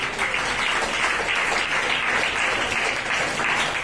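A church congregation claps hands together in a steady, dense burst of applause that stays even and continuous from start to finish.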